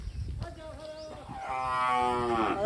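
A cow lows from a short distance away, starting faintly and swelling into a longer, louder moo toward the end, against outdoor background noise.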